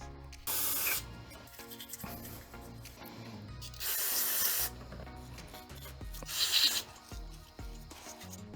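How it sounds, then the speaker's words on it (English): An aerosol cleaner sprays 1989 Yamaha Moto 4 carburetor parts in three loud, hissing bursts of about a second each, with quieter rubbing and small clinks of parts between them. "Everything else, we're going to spray off, clean it up real nice."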